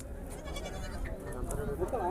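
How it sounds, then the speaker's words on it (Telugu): Albad goats at the Dubbaka market, a short, wavering bleat near the end, heard under steady nearby talk and crowd murmur. "ఇలా ఏల్బాడ్ మేకలు మంచి సైజు ఉన్నాయి"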